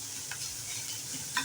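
Chopped onion and plenty of garlic frying with black cumin in a pan for a Bengali flat bean dish, a steady soft sizzle with faint stirring scrapes and a couple of brief clinks, heard alone.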